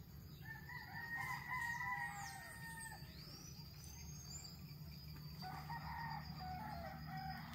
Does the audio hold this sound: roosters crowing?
yes